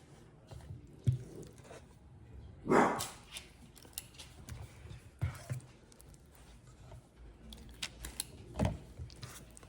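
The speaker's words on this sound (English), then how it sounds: "I think Pearl is barking at the neighbor dog." A few scattered dog barks at a neighbouring dog, moderately near, separated by quieter stretches with faint background rustling.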